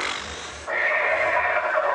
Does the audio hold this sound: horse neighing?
yes